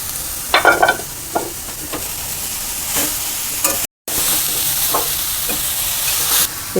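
Grated carrot and beetroot fry in a pan, a loud close sizzle with scattered scraping stirs and clicks of a spatula, broken by a brief silent gap near the middle.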